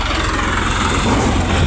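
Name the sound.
sugarcane tractor engine running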